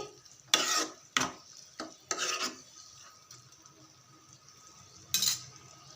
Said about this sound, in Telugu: ఇలా మొత్తం కలిపేసుకున్నాక ఇంకా అది దగ్గరి పడే వరకు ఉడికించుకోవాలి